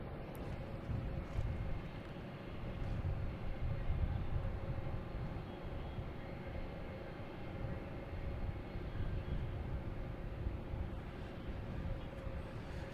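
A Korean Air airliner at Boston Logan Airport, heard as a distant, continuous low engine rumble and roar that holds steady for over ten seconds with slight swells.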